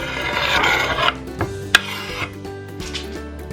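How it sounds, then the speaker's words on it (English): Kielbasa and onion frying in olive oil in a pan, a steady close hiss with scraping and stirring sounds and a couple of sharp clinks of a utensil against the pan. "we're going to fry this up until the kielbasa starts turning a nice golden brown color and the onion is nice and translucent"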